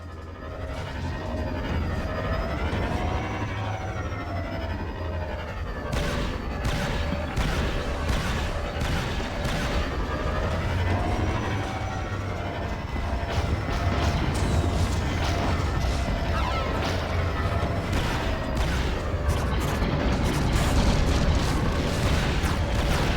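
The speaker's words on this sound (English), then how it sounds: "Their ship guns are pounding our shields." Ship guns pound the shields in the Star Wars Battlefront 2 video game, a dense, continuous barrage of heavy booms and explosions layered over a rumbling battle bed, staying loud throughout.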